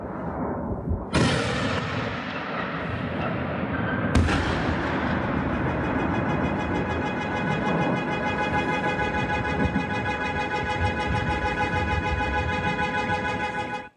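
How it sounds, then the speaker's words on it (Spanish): Heavy blasts from a Russian drone strike on Ukraine at night, two sudden loud booms followed by a long, continuous roaring rumble and ringing, distant yet powerful, with no talking. "Las explosiones parecen ser de más de 80 kilos de explosivos."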